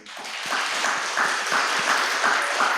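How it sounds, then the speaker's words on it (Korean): A church congregation claps together for the young pianist at a Sunday afternoon service, a steady even wash of applause with a faint voice underneath, filling the room throughout. "거룩한 우리 수고하는 우리 하은이 위해서 축복하는 박수"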